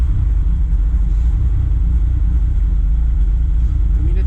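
A 1974 BMW 3.0 CS E9 idles on its first start in 15 years, misfiring and barely fueled, a low steady rumbling drone heard close and alone.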